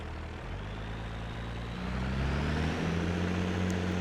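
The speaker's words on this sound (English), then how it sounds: "I think it sounds like a garbage truck." A Mercedes truck engine in a farming video game, a steady low droning rumble with harmonic tones that rise in pitch and grow louder partway through, heard alone without talk.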